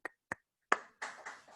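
A few hand claps or snaps on a video call during an online board meeting: three sharp, isolated cracks, then a brief cluster of quicker claps, all thin and quiet.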